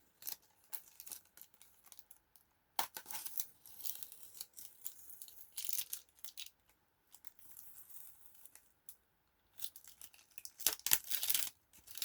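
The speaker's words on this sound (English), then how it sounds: "So I guess now the bit is peeling off the tape." Masking tape peeled off watercolour paper after painting a winter landscape, heard as a series of dry, crackly tearing bursts with pauses between them, close and fairly quiet.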